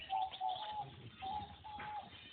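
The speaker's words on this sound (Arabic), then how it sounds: "شاهدنا هذه الطيور" Pigeon or dove cooing, two soft, steady coos close by in a quiet outdoor setting, no voices.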